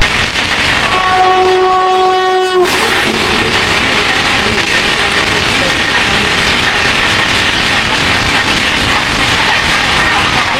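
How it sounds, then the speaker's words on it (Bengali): The 12314 New Delhi Rajdhani passes close by, heard from aboard a moving train: a loud horn blast opens, then a continuous rushing roar with rapid clattering wheels runs to the end. "এবার আমরা দেখা করব 12314 নিউ দিল্লি রাজধানীর সাথে।"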